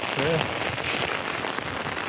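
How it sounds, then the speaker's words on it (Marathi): Heavy rain pours steadily onto surfaces outdoors, a dense, even hiss with close, continuous patter that fills the whole stretch without pause. "आता असा पाऊस वाढला भयानक"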